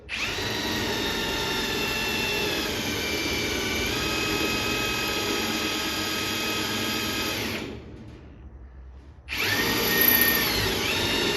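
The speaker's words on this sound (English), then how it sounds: "I don't need to drill it on an angle." A power drill with a dull bit whines steadily through the thin metal of a 60-gallon air compressor tank for several seconds, cuts out briefly, then starts up again, loud and close.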